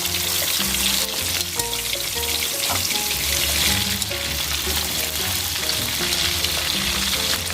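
Oat-coated pork liver deep-frying in hot oil, a loud, steady crackling sizzle that runs close and unbroken throughout, with no voices.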